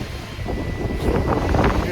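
Strong April wind gusts in Lachine, roaring as a steady, loud broadband rush close to the microphone and building slightly toward the end.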